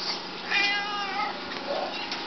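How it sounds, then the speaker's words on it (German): A glossy black tomcat gives a couple of clear, fairly loud meows close by, the first drawn out and wavering, a shorter one following, with no speech over them. "Miau, ja. Ja, du bist ein schöner Kater."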